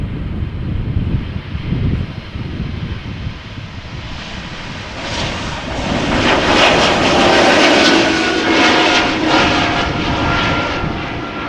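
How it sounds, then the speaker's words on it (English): An Embraer E195-E2 jet airliner departs Amsterdam Schiphol Airport, a steady broadband engine roar that swells louder around the middle and stays strong to the end, heard alone without voices. "Here we have an E2 Embraer 195 going to Venice."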